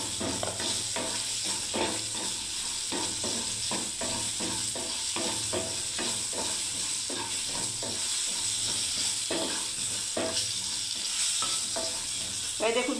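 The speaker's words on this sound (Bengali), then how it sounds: "আমি পটলগুলোকে তুলে নিচ্ছি বন্ধুরা। দেখুন ভাজা হয়ে গেল।" Pointed gourd (potol) frying in mustard oil, a steady close sizzle with frequent scraping stirs from a spatula throughout, no talking.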